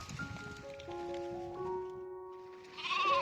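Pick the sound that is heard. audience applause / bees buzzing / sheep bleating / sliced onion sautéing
sheep bleating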